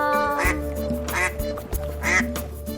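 A duck quacks three times at a steady pace, loud and close, over a sustained musical backing.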